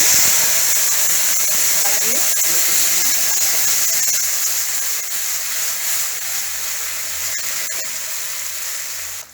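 Steady loud hissing sizzle of curry leaves dropped into hot oil with fried chana dal and urad dal, a constant bright crackle that slowly fades toward the end.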